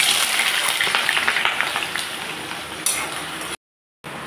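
Potatoes fry in mustard oil, a busy crackling sizzle that gradually settles, then drops to a brief total silence near the end before resuming.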